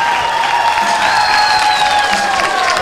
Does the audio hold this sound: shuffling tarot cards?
no